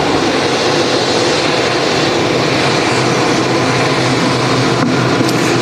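A Saudi Boeing 787-9 Dreamliner jet at Manchester Airport gives a loud, steady broadband roar that holds evenly throughout, with no talk.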